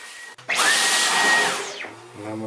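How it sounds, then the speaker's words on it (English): A hoover vacuum cleaner switches on suddenly with a loud whining roar while cleaning inside a Yamaha P series digital keyboard, holds steady for about a second, then winds down as the motor spins to a stop. "I'm just going to get the hoover"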